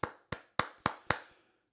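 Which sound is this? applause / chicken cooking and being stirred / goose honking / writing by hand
applause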